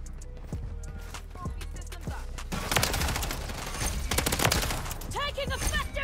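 Gunfire in the shooter Call of Duty Modern Warfare 3 from an MTZ 556 rifle: a few spaced shots, then dense rapid automatic bursts, loud and close, with in-game voices heard over the firing.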